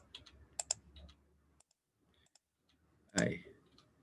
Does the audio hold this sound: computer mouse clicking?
yes